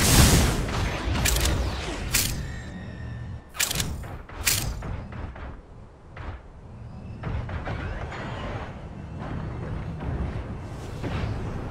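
Gunfire in the PC mecha game Super Mecha Champions, heard as scattered sharp bursts and thuds over a steady rumbling battle background, moderately loud and with no speech.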